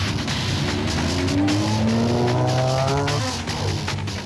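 A Nissan Navara racing off-road at the start of the 2007 Sun City 400 rally, a loud close engine revving and climbing through gears, tires scrabbling as it pulls away.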